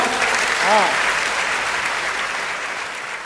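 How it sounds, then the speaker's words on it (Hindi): Audience applause at a Hindi comedy poetry show, a loud, dense burst of clapping that fades slowly, with a brief voice heard near the start. "तालियां जोरदार वाली बजाओ"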